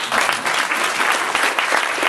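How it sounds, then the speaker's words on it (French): An audience at a church gathering claps in a brief, dense, even burst of applause, close and unbroken with no voices over it. "Vous pouvez vous applaudir."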